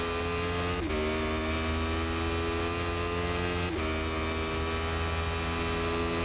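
Racing-sim car engine held at a steady, loud drone while the car is pulled through a corner using the inside bank, with two brief pitch dips as gears shift or the throttle lifts, no voices.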